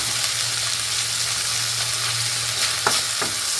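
Sliced onion frying in a pan on medium flame, a steady close sizzle with a low hum beneath and a couple of brief clinks near the end, no voices.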